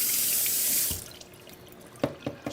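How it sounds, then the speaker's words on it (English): A yellow pepper rinsed under a running kitchen tap, a steady loud gush of water for about a second, then cut off, followed by a few sharp drips and knocks as the wet pepper is handled. "yellow pepper. Quick wash"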